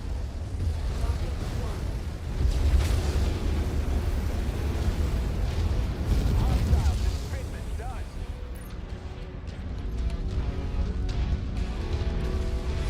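Counter-artillery barrage in the MechWarrior 5 video game, a dense, rumbling wall of explosions and impacts that rolls on continuously and loud, with talk over it.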